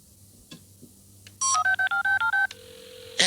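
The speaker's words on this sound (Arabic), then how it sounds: "الهاتف يرن." A telephone rings in a Looney Tunes cartoon, first a faint background hum, then a sequence of rapid electronic beeping tones in short even bursts, ending with a sharp click.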